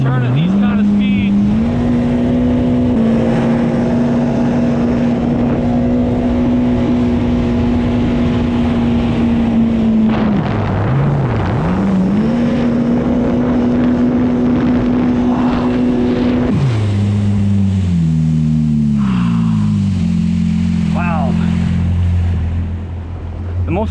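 A GPR boat fitted with a swapped-in SHO engine roars at high speed in a loud, steady drone, its pitch holding high before dipping briefly and then stepping down as the throttle eases, with water rushing throughout.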